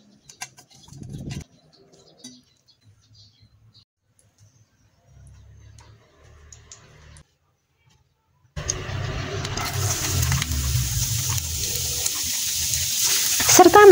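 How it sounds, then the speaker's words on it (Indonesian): Boiled macaroni poured into a strainer in a home kitchen gives a loud, steady rush of draining water with splashing that starts midway and continues to the end, after a few faint clinks and soft handling noises. "ini bisa langsung diangkat aja dan ditiriskan"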